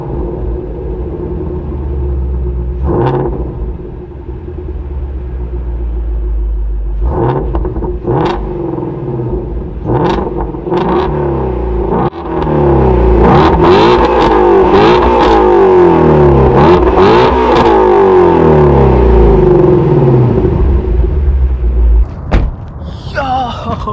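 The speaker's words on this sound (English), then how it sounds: "let me start it up and give it a few revs" A Ford Shelby GT350 engine starts with a loud crank and catch, then settles into a deep idle before several rising and falling revs. The revs grow louder toward the end, close-up, with a brief thump at the finish.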